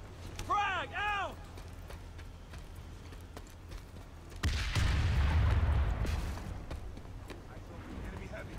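A frag grenade explosion in the video game Planetside 2, one loud deep boom about halfway through that rumbles and fades, following a short voice callout.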